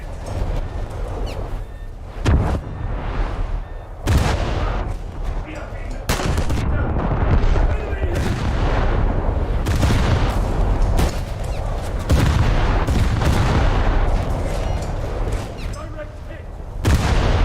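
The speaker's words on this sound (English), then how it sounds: "The 12-inch guns landed short, that's a bit annoying." Heavy 12-inch naval guns boom in a warship video game, sharp broadband blasts recurring every couple of seconds over a sustained rumbling battle din, loud and close.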